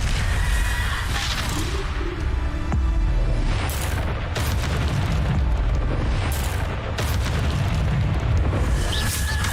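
Bombarda blast spells in the Hogwarts Legacy video game, with loud, continuous explosive booms and rumbling bursts layered over dense game noise throughout, no talk.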